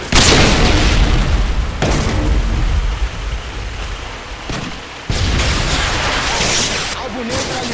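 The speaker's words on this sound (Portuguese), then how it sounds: "Lançando uma granada de luz!" A flashbang grenade goes off in Modern Warfare 2 multiplayer, a loud sharp burst followed by a harsh ringing hiss, with further abrupt blasts and crackling noise over several seconds.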